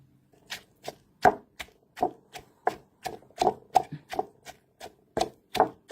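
Ingredients pounded in a mortar for a Thai dish, left coarse, with fish sauce and seasoning powder added: steady close thuds in an uneven rhythm, about a dozen strikes over several seconds, with no talk.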